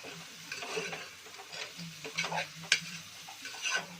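Small pieces of drumstick are stirred into a homemade carrot drumstick curry. A spoon scrapes and clatters in irregular bursts over a faint, soft sizzle, all fairly quiet.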